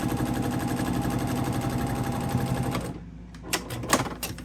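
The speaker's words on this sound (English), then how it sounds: "oh, I ran out of bobbin" A sewing machine stitches in a fast, even mechanical chatter up close, then abruptly stops after the bobbin thread runs out. A few sharp clicks and handling knocks follow in the quieter aftermath.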